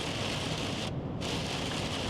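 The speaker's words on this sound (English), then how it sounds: "I'm pretty sure the microphone's picking up the rain" Steady rain pours down outdoors near Leamington, a dense continuous hiss of drops striking surfaces close to the microphone, with one brief dip in the downpour partway through.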